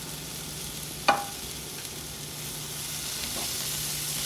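Soaked, peeled almonds and chopped tomato fry with onion in a pan for paneer butter masala, giving a soft continuous sizzle and hiss, broken by one sharp clink of a spoon against the pan, with no one talking.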